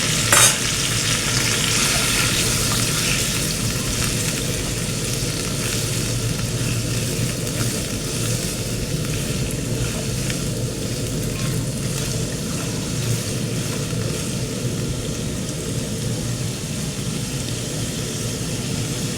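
Potatoes and carrots fry in a pan with a constant, close hiss of sizzling oil and a faint stir at the start, loud and steady throughout with no talk.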